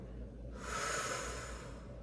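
Breath sounds during a Pilates leg exercise on a mat: a single soft, sustained exhale of about a second and a half, close and quiet, with no talking.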